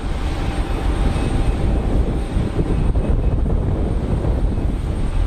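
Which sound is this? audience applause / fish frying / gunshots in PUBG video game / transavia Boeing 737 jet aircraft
transavia Boeing 737 jet aircraft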